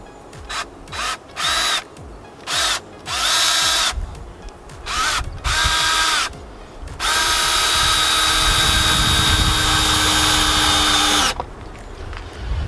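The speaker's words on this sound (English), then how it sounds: "I'm just going to try and screw them together by just kind of putting a screw in at an angle like this" Cordless power drill driving screws at an angle into garden bed edging, in repeated short bursts of whirring that stop and start, then one long sustained run near the end, close and loud.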